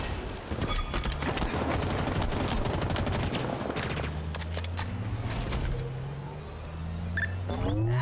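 Weapon fire in the shooter Halo Infinite: a dense stream of rapid automatic shots up close for several seconds, thinning into scattered single shots over a low droning hum and vehicle-like rumble.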